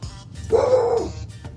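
A dog next door in New Mexico gives one drawn-out bark or howl, moderately close and outdoors, with faint yard ambience before and after.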